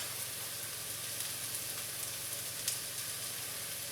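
Onions sizzle in a pan as the base for Mongolian lobster, making an even, continuous hiss of frying with faint crackles and no voices.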